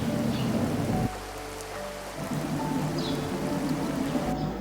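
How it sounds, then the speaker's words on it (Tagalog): Steady rain patters continuously in the background, soft and even, with a low musical drone playing alongside it. "ulan pa rin."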